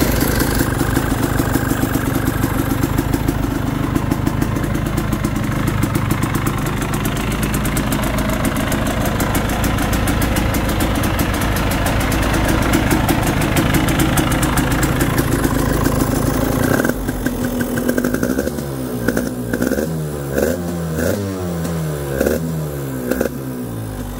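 A 2020 KTM 300xc TPI two-stroke dirt bike engine, already warmed up, idles loudly and steadily up close, then shifts around the seventeen-second mark into a choppier, pulsing rhythm with rising and falling revs.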